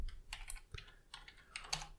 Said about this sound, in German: erst muss ich das Passwort noch eingeben